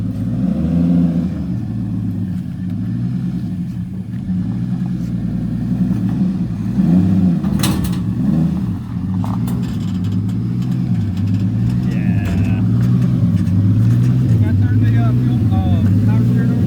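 A race car engine idles steadily with a rough, wavering low rumble throughout, close and loud, while people talk nearby during loading onto a trailer.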